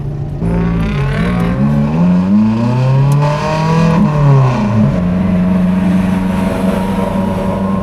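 A Lotus Exige 380 Cup sports car engine revs loud and close, its pitch climbing and dipping through gear changes over a steady droning roar on an Alpine drive.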